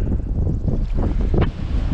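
A strong, steady west wind blows at sea, roaring across the microphone in loud gusts with waves audible beneath, and no one speaks.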